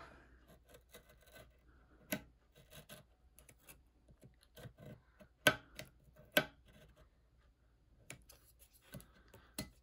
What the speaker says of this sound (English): I could take my X-Acto knife and trim it.